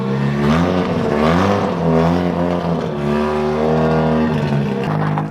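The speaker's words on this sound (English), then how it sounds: "I'm now going to drown out the sound of Wayne with his car" A loud modified Mazda RX8 engine revs and drones continuously, its pitch rising and falling in sustained waves close by.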